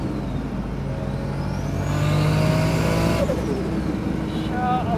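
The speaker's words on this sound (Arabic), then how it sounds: "أنا مستعد أشتري هاي السيارة بس مشان أصوات التيربو الأسطورية اللي تطلع منها." A 900 hp turbocharged Toyota Supra engine revving, rising in pitch then dropping off with turbo whistle overtones, loud and close; a voice is briefly audible over the engine.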